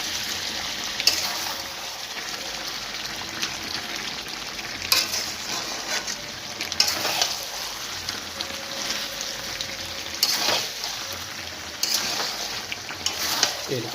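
Chicken curry is stirred in a pan on the stove, with steady frying sizzle and scraping strokes recurring every few seconds, close and fairly loud throughout.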